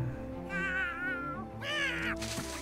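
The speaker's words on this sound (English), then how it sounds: "I hear a cat." A cat meows repeatedly in the South Park: The Fractured but Whole video game, three drawn-out, wavering cries close up over a steady bed of game music.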